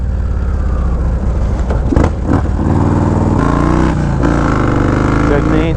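Motorcycles ride and rev at a bike night, including a Raider with a 2-in-1 exhaust. Loud, close engine rumble rises and falls through several revs, and there may be voices underneath.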